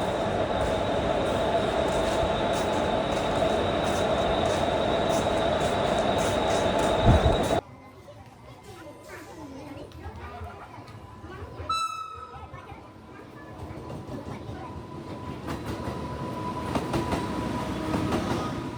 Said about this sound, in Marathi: मागे बघू शकता आपली ट्रेन कल्याणला जाणारी आहे